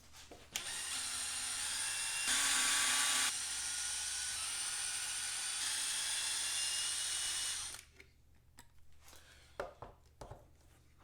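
A power drill fitted with a 2mm hex bit backs screws out of a Traxxas 4-Tec 3.0 RC car's brace, giving a loud sustained whine with a brief higher burst partway through, then stopping into quiet handling clicks.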